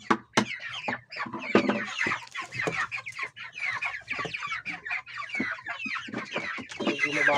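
Broiler chickens in a smelly coop cluck continuously and loudly while being fed, their busy overlapping calls filling the scene alongside scattered feed rustles and brief low voices.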